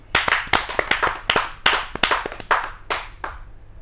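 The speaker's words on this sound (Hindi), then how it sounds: "आपकी जोरदार तालियां मिले पंडित सुरेश नीरव जी को।" A live audience at a Hindi poetry gathering claps for a poet in a sparse run of sharp, separate handclaps, loud and near, spaced irregularly and then thinning out.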